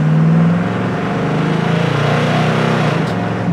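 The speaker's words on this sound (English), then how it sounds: "Or maybe go through the gears once, see how she shifts." A 1970 Ford Mustang Fastback engine accelerates and runs through its gears, a loud, steady, close-up drone with rising revs and a shift change near the end.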